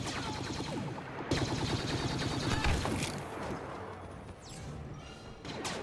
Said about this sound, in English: the DLT-19 Heavy Blaster delivers massive amounts of damage in close and medium range